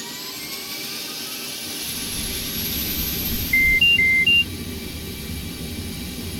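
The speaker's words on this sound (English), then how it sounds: "Turn the APU on." An F/A-18E Super Hornet's APU spins up on ground power as a rising jet whine over a steady roar, joined partway through by a short run of cockpit beeps, loud and close with no talking.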